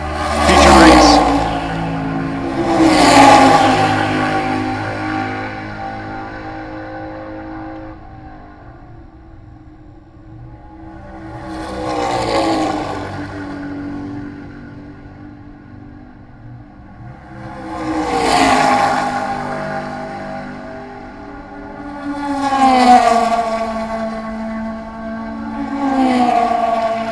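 Race cars in a Group 3 feature race at Road America roar past one after another, each pass swelling loud and close, then fading. The engine notes rise and fall in pitch, and commentary runs throughout.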